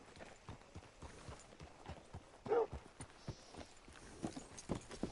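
Rhythmic clip-clop of horse hooves on hard ground in a video game, a steady walking gait with a louder cluster of hoofbeats midway, no speech.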